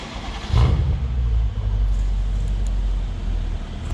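A Mercedes-Benz S550's tuned variable exhaust swells into a deep, throaty rumble as the engine is blipped, then settles into a steady low drone, close and loud.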